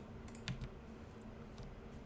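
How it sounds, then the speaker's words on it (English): Computer mouse clicks while playing the PC game Ostriv, a few quick, light clicks in small bursts, close and fairly quiet over a low background hum, with no talking. "Sorry about all that clicking."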